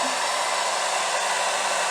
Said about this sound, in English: then I run my hair dryer over it a little bit